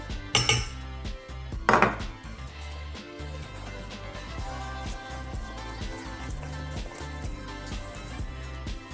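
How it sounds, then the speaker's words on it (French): A spatula scrapes and clanks against a bowl while flour is mixed into brownie batter, with two sharp knocks early on and then steady soft scraping; no talking. "Vous mélangez bien pour avoir une préparation homogène."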